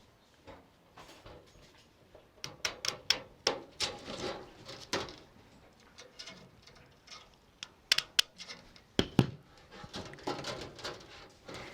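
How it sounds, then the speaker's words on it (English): Tin snips cut wildfire defense mesh on an off-ridge dormer roof vent, giving a close, irregular series of sharp metallic clicks and snips with short pauses between cuts. "So I'm just going to come through and snip."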